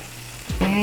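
A vegan egg mixture made from plant ingredients is poured into a hot pan, and a short, close burst of sizzling follows as the liquid hits the surface.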